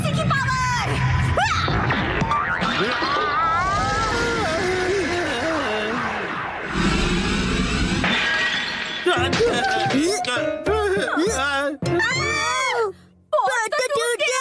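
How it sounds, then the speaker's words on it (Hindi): A clay pot shatters in a Hindi-dubbed Shinchan cartoon, a brief breaking crash caught up in loud, busy cartoon voices and effects. "पॉट तो टूट गया।"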